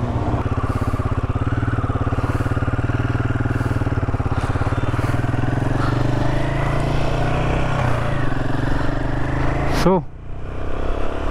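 A Royal Enfield Himalayan 450 motorcycle rides on a long highway trip, with a steady engine drone and wind rush throughout and a brief dip near the end. A voice speaks over it.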